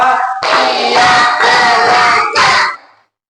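Loud bursts of hand clapping from a group in a rhythmic pattern, with shouted voices mixed in, ending abruptly.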